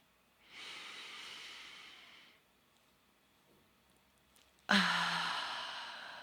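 A slow, deep breath drawn in through the nose and then released in a long, audible sigh, close and quiet with a soft hiss on both the inhale and exhale.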